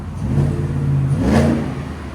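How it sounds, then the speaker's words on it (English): Supercharged Ford F-150 with a 5.0L V8, Borla exhaust and a Flowmaster Flow FX, revving once close by, a deep rumble swelling to a peak and easing back toward idle. "the nice thing about Borla, when you step on it, that's when you hear it."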